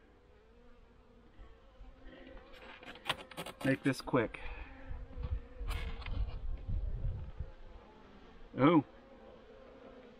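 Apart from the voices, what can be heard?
honeybees buzzing during a winter hive inspection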